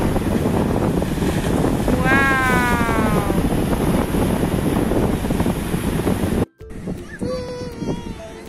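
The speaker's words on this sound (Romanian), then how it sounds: "Haideți să vedem cât de mari sunt valurile!" Waves crash against rocks at a Spanish beach, a loud continuous roar of surf with heavy wind buffeting the microphone, cutting abruptly near the end to quieter surf.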